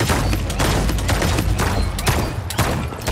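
Continuous gunfire in the shooter game Paladins, loud and dense with overlapping shots and booms rolling steadily throughout without pause.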